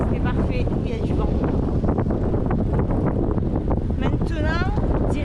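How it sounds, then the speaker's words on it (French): Wind buffets the microphone outdoors on arrival in Hamburg, a heavy continuous low rumble with a person talking over it throughout. "Il y a du vent."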